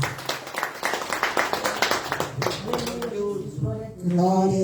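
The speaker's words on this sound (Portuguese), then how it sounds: "As palmas louvam a Jesus nessa noite." Congregation clapping hands during an evangelical church service, a burst of rhythmic close claps that fades after a few seconds as a voice begins speaking over the end.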